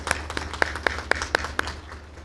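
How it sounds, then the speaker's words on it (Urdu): Audience clapping in tribute at a ceremony in Lahore, a steady series of distinct claps over a low background hum, moderately close. "فرشتہ صفت آدمی منو بھائی، ہم اس کو تالیاں بجا کر خراج تحسین پیش کریں"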